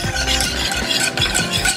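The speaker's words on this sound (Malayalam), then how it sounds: "നമുക്കിനി ഇത് സ്റ്റൗവിൽ വെച്ചിട്ട് ഒന്ന് ചൂടാക്കി നല്ലതായിട്ട് കട്ടിയാവുന്നിടം വരെ ചൂടാക്കണം." Kunafa milk mixture being stirred in a pan heating on the stove, a steady scraping swirl with faint sizzling, close and continuous throughout.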